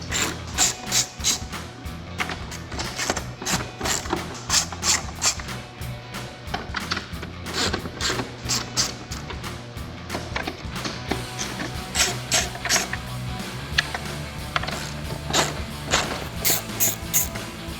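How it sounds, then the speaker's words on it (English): A ratchet with a 1/4-inch drive, 7mm socket and short extension loosens five back-plate screws on a 2017-2022 Ford F-250 side mirror, giving steady rapid clicking bursts that repeat close up with no talk. "The next thing we'll be doing is taking off the 5 screws that hold the back plate on."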